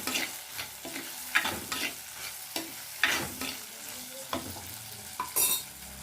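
Curry leaves frying in hot oil in a pan while being stirred, giving a crackling sizzle broken by repeated scraping stirs at an uneven rhythm, close and fairly loud with no talk.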